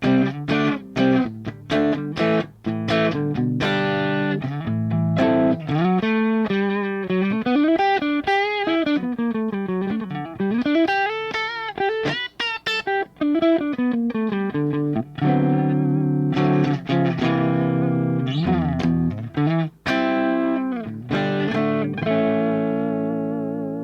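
Electric guitar played through a Theta Pro DSP effects unit set to a heavy, overdriven hard-rock distortion; loud sustained chords and bending lead notes ring out continuously, with sharp picked attacks and no talking.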